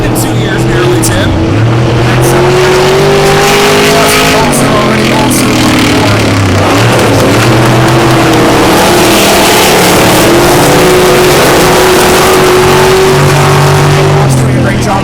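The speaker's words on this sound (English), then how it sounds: "I kind of forgot how loud these cars are." V8 dirt track race cars roar around the oval, engines droning and shifting pitch as they rise and fall, loud and continuous, with an announcer talking over the noise.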